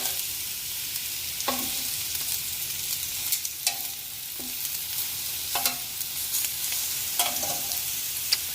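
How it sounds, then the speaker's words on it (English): Homemade Alfredo sauce sizzles and bubbles in a pan, a steady close hiss broken every second or so by the scrape and clink of stirring, with no voices. "Okay, so we've got our sauce kind of sizzling and boiling over here."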